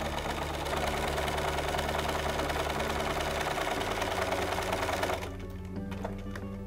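A sewing machine runs steadily with a fast, even mechanical stitching rhythm, then stops near the end, leaving faint ticking and quiet.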